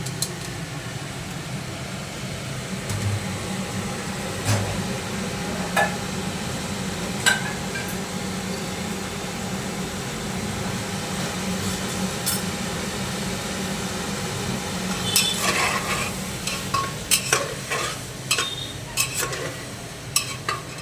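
Potatoes and tomatoes fry with spices in a pan, a low steady hiss under scattered spoon clinks and scrapes that grow busier toward the end, close by with no talking.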